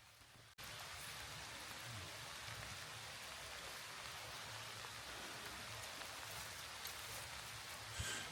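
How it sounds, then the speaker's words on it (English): Heavy rain pours steadily near Pohansko, a dense, even hiss of falling water after a brief quieter moment at the start, with no voices. "So the rain continued to pour and pour and pour"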